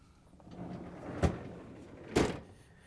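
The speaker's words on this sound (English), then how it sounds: "we have to open up the freezer door" The freezer door of an LG/Kenmore refrigerator is pulled open, giving two distinct soft thumps about a second apart over a faint background hiss, with no talking.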